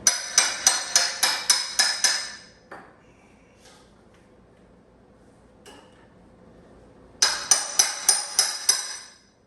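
A hammer striking a steel crowbar wedged into a wooden pallet, a fast run of about eight bright metallic rings, a quiet pause with faint taps, then another burst of ringing strikes.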